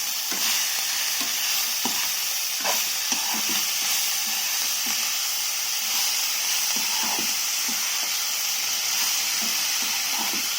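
Amaranth leaves sizzling in hot tempering oil in a pan while being stirred, a steady loud hiss with scattered scraping and clinking of the spoon throughout.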